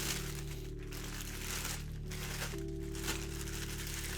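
Plastic bag and protective paper packaging around an XM Studios Cable statue crinkle and rustle continuously up close, with brief quieter gaps between handling bursts.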